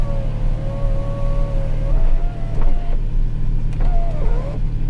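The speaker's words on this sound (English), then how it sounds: "I did not check out the sunroof, but the sunroof is a little slow," Sunroof motor on a V12 car whines steadily as the roof opens and closes, a little slow, running in two directions with brief pauses between, close and fairly loud over a low background hum.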